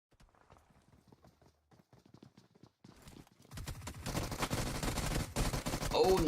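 Gunfire in a competitive esports video game match: bursts of shots that build into a dense, loud barrage over the second half, mixed with heavy game sound.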